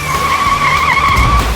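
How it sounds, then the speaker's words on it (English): A car tears away with tires skidding in a loud, sustained high squeal that wavers briefly, joined by engine rumble toward the end, with no voices. "They get in and speed off."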